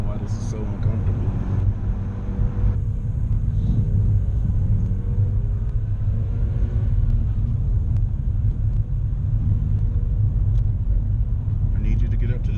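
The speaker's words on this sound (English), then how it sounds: "Why is the motor so loud?" A car's motor drones with a loud, steady low rumble while driving, heard from inside the cabin with voices talking over it.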